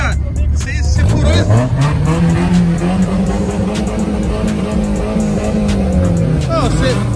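A car with a drilled exhaust revs loudly at a night street gathering, its engine pitch rising and holding in a long raspy drone, with people talking over it throughout.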